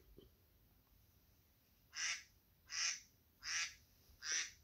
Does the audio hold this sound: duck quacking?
yes